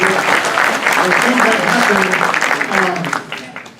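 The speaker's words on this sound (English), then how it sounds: "Let's give both of the Chris's a round of applause" A round of applause at a business meeting, a room full of people clapping loudly and steadily, with voices mixed in underneath before it tapers off toward the end.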